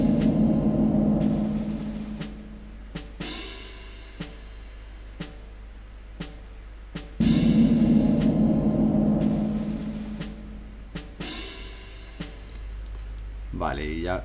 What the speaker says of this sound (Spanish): Primero puse unos timpanis, unos timbales de orquesta típicos, algún efecto así como de gong, de plato y tal, que venían en esta librería.